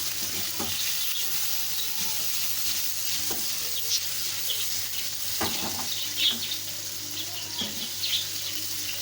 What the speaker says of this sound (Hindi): और इसमें मैं डालूँगी ये टमाटर और इसको अच्छी तरह से भूनूँगी